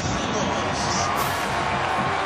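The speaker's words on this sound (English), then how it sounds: "A little something to cheer about for the remaining Arizona State fans here" Arizona State fans cheering after a pick six at a 2012 college football game against Oregon: a loud, steady stadium roar with whoops and shouts.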